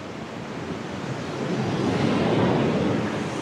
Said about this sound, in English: the massive Elk Falls